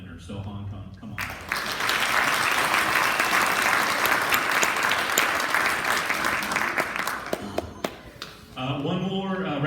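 Sustained applause from a school assembly audience honoring a blue team boys basketball squad, a dense broad roar of clapping lasting several seconds before fading into speech at the end.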